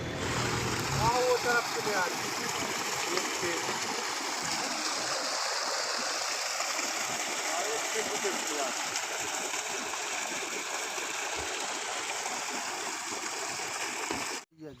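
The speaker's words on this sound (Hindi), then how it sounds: "जो तालाब है, इसमें से जो पानी रिस रहा है" Water leaks and seeps out of a village reservoir, making a steady, close rushing and trickling flow that runs unbroken for about fourteen seconds before cutting off abruptly.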